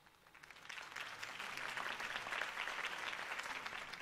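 Applause from a crowd after a campaign speech in a Batman video game, swelling in after a quiet start and holding as a steady, moderately distant clatter of clapping.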